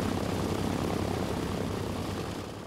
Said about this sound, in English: the Catalina soared above the ocean on its long and lonely patrols